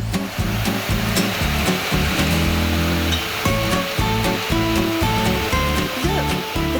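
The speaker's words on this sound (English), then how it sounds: "Let's see how quickly the hand dryer warms up when I put my hands under the dryer." A hand dryer blows a continuous loud rush of air as hands are held beneath it, with a steady hum running throughout and a shift in tone partway through.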